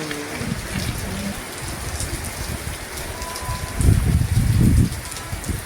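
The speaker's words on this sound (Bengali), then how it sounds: "না না, এসছে বৃষ্টি এসছে" A steady night rain patters on surfaces close by, swelling briefly into a heavier gush, while people talk quietly nearby.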